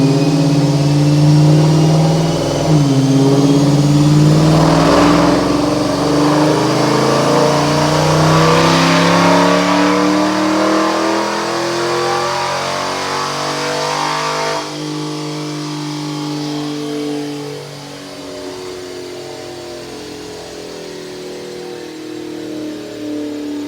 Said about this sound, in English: Check out this dyno pull.